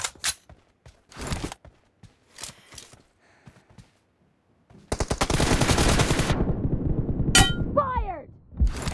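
M416 rifle gunfire in the mobile game PUBG Mobile: scattered short bursts and single shots at first, then a loud sustained automatic burst of rapid shots, followed by metallic clinks and ringing effects.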